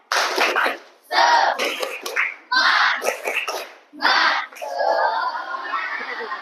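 A group claps in quick rhythmic bursts, a patterned cheer clap repeated several times, loud and close, ending with a short burst of voices.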